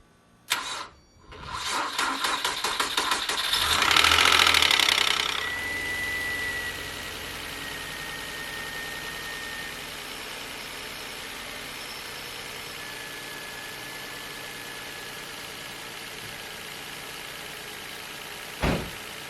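A Nissan Altima engine cranks with rapid clicking, catches and revs loudly, then settles into a steady idle that hums on for many seconds.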